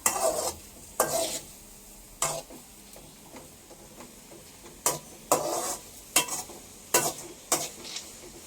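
Spicy meat curry simmering in a pot, stirred in repeated bursts of scraping and clinking against the metal, with a soft sizzle in the pauses between strokes.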